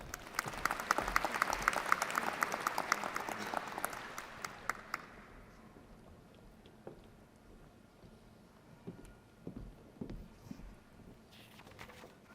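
Applause from a university winter commencement crowd for doctoral nursing graduates swells and then thins out into scattered claps over a few seconds, leaving faint room noise and occasional stray claps.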